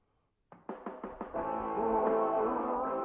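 A music mix run through a narrow telephone or radio style filter, sounding thin and boxy; a few sharp plucked hits start it after a brief silence, then a sustained tonal bed plays on.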